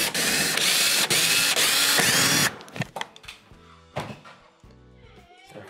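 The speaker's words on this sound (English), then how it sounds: "we're going to begin by removing the 10 Phillips style screws that secure the panel in place" A power driver whirs in a loud continuous burst, backing Phillips screws out of a Whirlpool stove top panel, followed by a few short ratcheting bursts and clicks as the screws come free.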